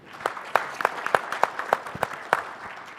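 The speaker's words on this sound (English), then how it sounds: "Let's give them all a big, warm welcome, round of applause" Steady, rhythmic applause from a forum audience in Indianapolis greeting a panel, with individual sharp claps standing out at regular beats over a continuous wash of clapping.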